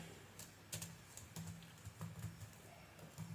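Soft computer keyboard typing while a code comment is written in the Arduino IDE: scattered light clicks and heavier key taps in an irregular rhythm, faint and close over a quiet hiss, with no talk.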